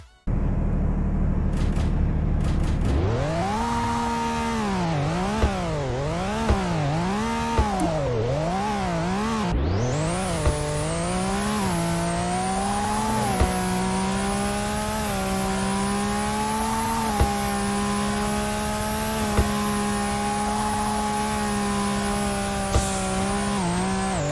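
A limited-edition Lamborghini engine in the Car Dealership Tycoon game idles, then revs up and down in quick repeated swells before holding a steady high-pitched whine, loud and close with no talking.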